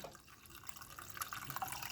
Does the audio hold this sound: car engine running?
no